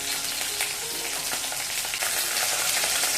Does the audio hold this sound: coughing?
no